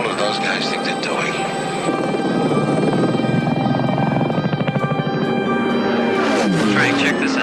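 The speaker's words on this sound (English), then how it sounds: "Engine heat registers, but there's no pilot. It's radio control. It's a drone." Engine drone of radio-controlled kamikaze drone aircraft, a loud steady buzzing hum that swells and wavers throughout, with an actor's voice speaking over it.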